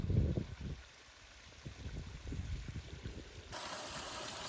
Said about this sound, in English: Got ourselves another little waterfalls.